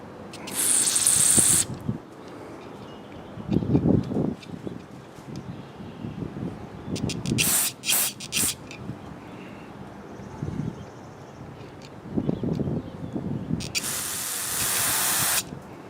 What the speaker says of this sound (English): Take my carburetor cleaner here.